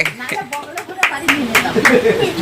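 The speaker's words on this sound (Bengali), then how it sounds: "হাততালি দে রে" A family gathering at home celebrates a second wedding anniversary with hand clapping, a scattered patter of claps mixed with overlapping voices and lively chatter close by.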